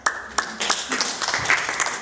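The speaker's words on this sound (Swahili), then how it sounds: "Makofi." Audience applause at a closing teaching event in Shinyanga, a scattered burst of clapping from a modest crowd with uneven individual claps, fairly close, with some voices mixed in.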